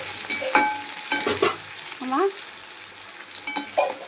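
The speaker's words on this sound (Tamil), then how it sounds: "சோம்பு, கல்பாசி, பட்டை, கிராம்பு இலை எல்லாம் போட்டு வெங்காயம் போட்டு தாளிச்சுக்கிட்டு இருக்கோம்" Sliced onions frying with fennel seeds, black stone flower, cinnamon and bay leaf for mutton curry give a soft sizzle with light stirring, a brief spoken word and faint background sounds.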